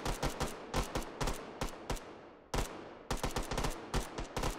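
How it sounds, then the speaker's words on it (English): Computer-controlled bots in the VR game Hot Dogs, Horseshoes & Hand Grenades trade loud, close gunfire in quick bursts of sharp shots, with a brief lull in the middle before the shooting resumes. "They're just shooting each other in the face."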